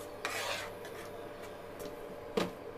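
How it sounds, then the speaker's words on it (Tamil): A spoon scrapes and rubs through thick semolina kesari with musk melon as it is stirred in a pan, giving a steady rasping texture with a couple of sharper knocks against the metal. "இப்போது எல்லாமே ஒன்று சேர்ந்து வர வரைக்கும் கைவிடாமல் கிளறிக்கோங்க"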